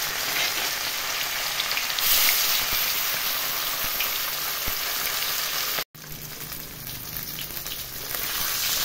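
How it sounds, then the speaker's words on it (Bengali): Fish pieces sizzle and crackle in hot oil in a karahi, a dense steady hiss that goes on throughout, briefly cut off once, while rui fish is crisp-fried for a Noakhali-style mustard dish. "ভালো করে ভেজে নেব মাছগুলোকে কড়া কড়া করে"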